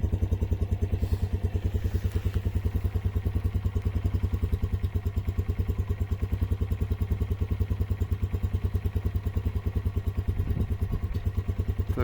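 A Lifan CTR 200 motorcycle engine idles steadily with a fast, even putter, close and constant for the whole stretch, no voices, outdoors at about 13-14°C.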